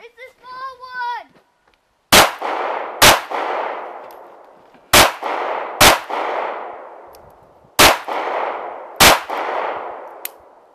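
Pistol shots at a Winter Shootfest shooting event: six loud, sharp reports in pairs, each with a ringing tail, spaced a second or two apart. A short whistle-like tone sounds before the first shot.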